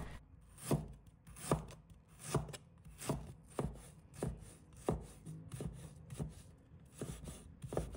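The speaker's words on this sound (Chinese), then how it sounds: "再准备1块生姜，把它切成丝。" A knife shredding fresh ginger on a cutting board, about a dozen evenly spaced, crisp chops with soft scraping between strokes, close and fairly quiet.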